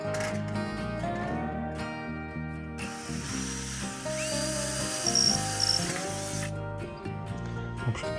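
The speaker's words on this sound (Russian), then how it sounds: "я сначала 8 саморезом по металлу просверливаю дырку, а потом закручиваю уже 10" A cordless screwdriver drilling and driving self-tapping metal screws while an old garden gazebo is rebuilt, its motor whining steadily up and down with ratcheting clicks, close and loud, in several continuous runs with short stops.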